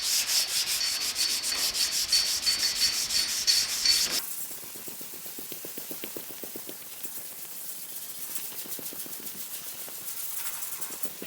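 A door from a 1950 Chevy truck is sanded by hand with 240-grit paper in fast back-and-forth strokes; the rhythmic rasping is loud at first, then continues lighter and quieter.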